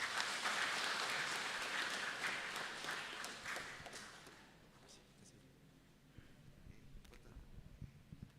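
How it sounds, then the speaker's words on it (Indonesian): Congregation applause during a Batak-language HKBP Sunday church service, a full round of clapping that gradually fades to scattered claps and quiet room noise. "tepuk tangan Mahita"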